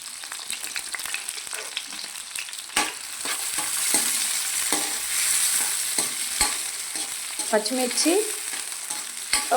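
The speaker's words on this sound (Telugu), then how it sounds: "ఉల్లిపాయ, పెద్ద ఉల్లిపాయ వేసుకున్నాము. వేగుతుంది కదా" Big onions frying in a pan of oil give a continuous bright sizzle with intermittent spoon clinks and stirring scrapes, close up and steady throughout, no voices.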